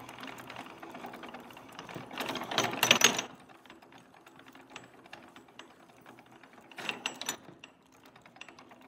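A Ford Model A transmission clicks and clunks through second and third gear, faint mechanical ratcheting with two louder bursts of gear meshing, no talk.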